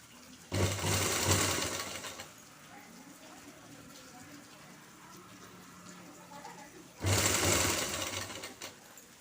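A sewing machine stitches the sleeve seam of a top in two bursts of rapid, steady whirring, separated by a quieter pause of low room noise.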